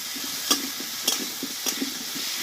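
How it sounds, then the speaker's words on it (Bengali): Pumpkin frying in a pan with a ground paste of green chili, ginger and cumin, a steady soft sizzle broken by about three sharp scraping stirs, close and alone with no talk. "বাটনাটা দিয়ে আমি একটু 1 মিনিট মতো কষিয়ে নেব"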